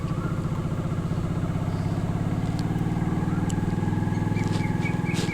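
Motorcycle engine running steadily with a low rhythmic throb on a Himalayan mountain road between Kangra and Chamunda Devi in the morning, continuous and close throughout, with faint bird chirps above it.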